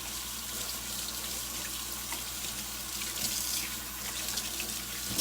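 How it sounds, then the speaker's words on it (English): Water runs steadily from a sink tap during handwashing, a continuous broadband hiss with small splashes from hands moving under the stream, fairly close and uninterrupted. "Wash, wash, wash your hands."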